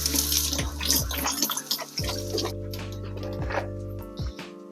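Boiled water poured from a kettle into a container while cooking oxtail soup, a close splashing stream with a rising gurgle as the vessel fills, accompanied by light clinks and a soft tonal hum.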